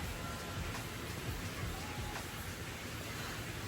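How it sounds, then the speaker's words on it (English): Heavy rain pouring outside during an indoor brow makeup session, a steady broadband hiss that stays constant and fairly faint throughout, with no voices. "It is raining cats and dogs right now,"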